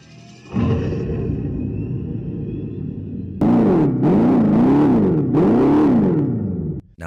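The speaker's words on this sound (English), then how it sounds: "there's a car that gives you actual electric sounds" A car's artificial electric-vehicle sound is played back through its speakers: a low synthetic rumbling hum starts, then shifts into a louder wavering, sweeping tone that rises and falls several times before cutting off.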